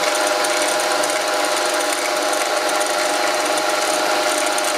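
A steady, loud high-pitched whine of a small Dremel tool cutting a metal gear wheel, continuous and unchanging throughout, close up.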